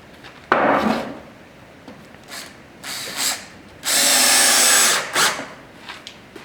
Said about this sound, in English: If you're using a cordless drill like I've just picked up now